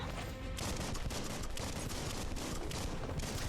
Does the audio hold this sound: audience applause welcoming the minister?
no